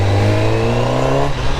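A 2019 Honda CBR1000RR SP 1000cc sport motorcycle engine revs loud and close, a steady high-revving drone with strong harmonics that drops briefly near the end, with no talking.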